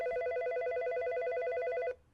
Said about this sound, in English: Rick Kelly got a phone call from Auburn police